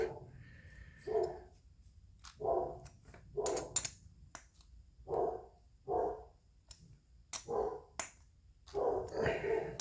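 A dog barks in spaced single yelps, roughly every second, nearby in a workshop during a small chainsaw engine rebuild, with sharp clicks and clatter mixed in.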